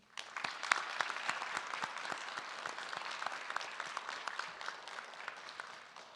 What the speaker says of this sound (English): let's give them a huge round of applause because they deserve it as much,